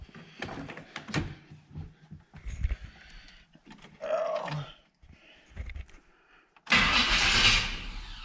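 Starter on a 1996 Chevrolet Z71 pickup cranking the engine over after the battery is hooked up, with several short grinding bursts separated by pauses, then a louder sustained run near the end.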